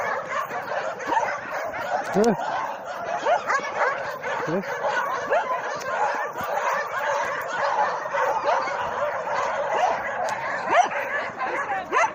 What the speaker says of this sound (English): this random dog over here, he's not actually a part of the collection, but he hangs around